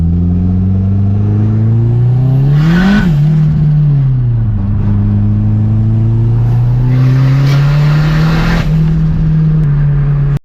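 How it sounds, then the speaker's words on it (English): A turbocharged K24 engine in a 9th-generation Honda Civic revs loudly and steadily, pitch climbing, dipping around the three-second mark, then rising again with a throaty turbo whine, close and continuous. "That turbo sounds crazy."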